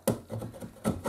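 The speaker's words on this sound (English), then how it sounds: "I want to take this planing tool to kind of distress it a little bit to kind of reveal some of the other wood" A hand planing tool scrapes along the edges of stained wood to distress them, two or three quick rasping strokes in close succession, near and moderately loud.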